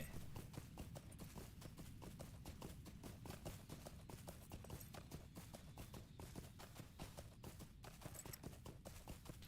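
Hoofbeats of a galloping horse in Lord of the Rings Online, set in Western Rohan, pound in a fast, steady clip-clop rhythm throughout, close and fairly loud with no talking.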